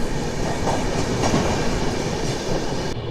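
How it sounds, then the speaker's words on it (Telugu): The Vivek Express, India's longest train, rolls past with a loud, continuous rumble and clattering wheels, heard close and steady until a sudden cut at the end; no one speaks. "ఈ ట్రైన్ వచ్చేసి మనకు India's longest train Vivek express train"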